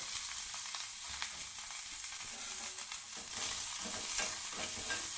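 Onions frying in oil in a pan on the stove for a capsicum palya gravy, heard as a continuous dense sizzle that holds steady throughout, close and even.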